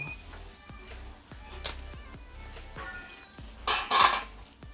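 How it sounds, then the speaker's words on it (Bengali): Malabar spinach (pui shak) leaves being cut with a knife, a string of crisp, regular taps and clicks against a surface with occasional metallic clinks. "এখন আমি পুঁই শাকটা কেটে নেব।"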